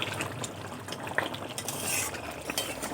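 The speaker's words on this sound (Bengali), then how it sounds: "নাড়াচাড়া করে দেব।" A spoon stirring egg, potato and cauliflower curry topped with chopped coriander in a pan, a steady wet scraping and gentle bubbling at close range with a couple of light clinks.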